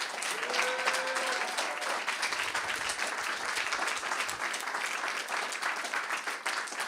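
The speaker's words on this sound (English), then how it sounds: "can we give them one more round of applause?" A conference audience gives its speakers a dense, sustained round of applause that holds at an even loudness throughout, with a brief voice or tone audible near the start.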